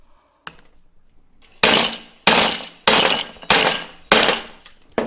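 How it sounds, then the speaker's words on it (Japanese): Five loud, sharp metallic hammer strikes drive a drivetrain part into place on a Honda Benly scooter, landing at a steady pace, each ringing briefly before the next, after a short quiet stretch with a faint tap. "次はハンマーでしてみましょうかね。"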